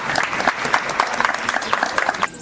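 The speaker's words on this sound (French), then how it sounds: "Est-ce qu'on peut acclamer?" Audience at a school group's press event claps steadily, a close, dense patter of many hands sustained throughout with no distinct cheering.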